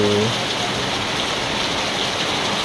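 Rain falls in Daet in a dense, steady hiss of drops, loud and continuous, with a faint voice trailing off at the very start.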